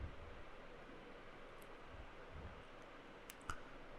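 Typing login details on a computer keyboard: a few quiet, scattered key clicks over faint steady fan hiss, with no voices.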